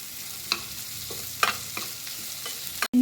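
Sliced onions with salt and curry leaves frying in a pan for a squid roast, a steady sizzle broken by a few sharp scrapes and clicks of stirring, then a brief cutout near the end.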